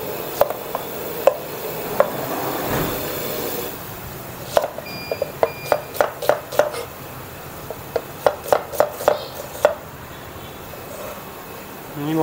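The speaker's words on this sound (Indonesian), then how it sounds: "Ni bahan kita potong dulu." Celery stalks and leeks for soup are chopped on a board, first as scattered single knife strikes and then as quick bursts of sharp chops, close and clear over faint kitchen background.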